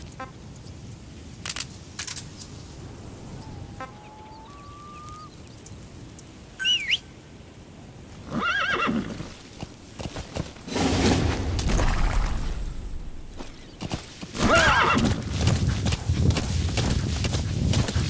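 In the Metal Gear Solid V video game, a horse's hooves clip-clop and gallop over terrain among occasional chirps and bursts of wind and rumble, growing louder and denser in the second half.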